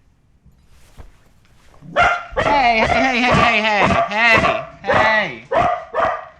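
A dog barks in the room, several sharp, loud, close barks in quick succession with yippy, whiny edges, after a short shout from a person.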